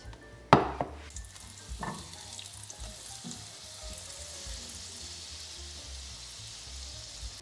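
A flatbread filled with suluguni cheese fries in hot oil, giving a sharp splash and bubbling burst at the start that settles into a steady, quiet sizzle close by.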